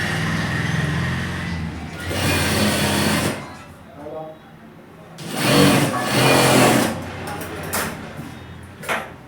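A sewing machine stitches a zipper onto capri pants in two loud whirring bursts, close by, with someone speaking over and between the runs.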